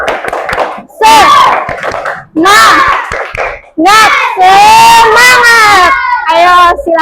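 A classroom of children loudly chants a rhythmic clapping cheer together, with their voices shouting in unison in short bursts and hand claps mixed in, close and energetic.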